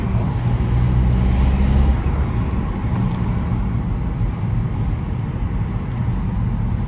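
A stage 2 tuned BMW 120d diesel hatchback rolls along with a steady, loud low engine and road drone heard from inside the car, easing off into a coast with no talking.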